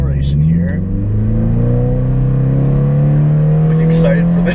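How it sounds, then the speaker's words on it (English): An old muscle car accelerates hard, its engine note rising and droning loudly and steadily throughout, with a possible voice faintly under the engine. "So let's get a quick acceleration here."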